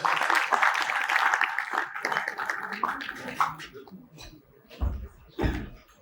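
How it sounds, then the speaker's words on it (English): Audience at a design debate event applauding architect Jayaditya Kotwal, a dense spell of clapping that fades out, followed by a few thuds and scattered sounds, with talk around it. "please give a round of applause to Jayaditya"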